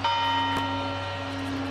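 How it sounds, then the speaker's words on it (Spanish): Church bells chime the New Year quarters, heard as a sustained, ringing bell tone with long-lasting overtones that stays steady and fairly loud throughout, with no talking over it. "Y ahí están escuchando el repique de campanas."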